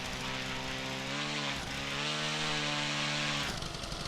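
A small RC model airplane's engine drones loud and steady as it flies and comes in to land, its pitch dipping briefly mid-pass before holding, then cutting off near the end.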